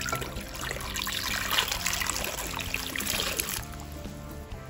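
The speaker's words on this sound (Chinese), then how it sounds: "再加入清水" Clean water pours from a tap into a bowl of sweet potatoes, a steady close trickle and splash that runs for several seconds before easing off.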